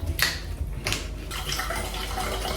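Sparkling water is poured for a mocktail, a continuous fizzy splashing stream with a couple of sharper clinks or pops near the start.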